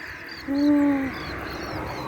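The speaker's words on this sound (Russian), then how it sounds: "Люблю птиц из животного мира. Ой, а как поют." Birds call near a resort town, a few short chirps and one louder drawn-out cry over a steady outdoor background hum.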